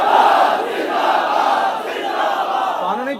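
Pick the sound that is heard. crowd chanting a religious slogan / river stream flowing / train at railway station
crowd chanting a religious slogan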